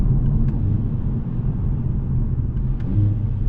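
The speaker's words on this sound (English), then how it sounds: "We'll try to do a downshift, see how that works." A 2024 Kia Forte GT engine rumbles low and steady from inside the cabin during a paddle downshift, with a slight swell in revs toward the end.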